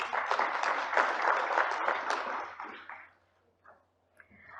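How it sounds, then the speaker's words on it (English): Audience at a summit conference claps for the speakers, a dense round of applause that swells, holds for a few seconds, then fades out into scattered last claps. "Let's extend a warm welcome to all our speakers with another round of applause"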